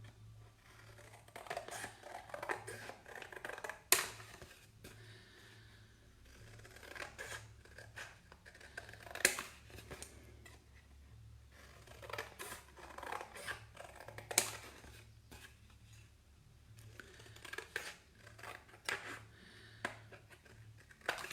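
Scissors cutting out a paper template for an A6 card, with faint intermittent snips and paper rustles spread across a quiet room, several sharper clicks standing out, no talking.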